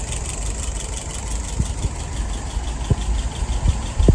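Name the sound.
engine idling at about 630 rpm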